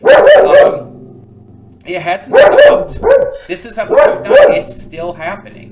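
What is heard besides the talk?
dog barking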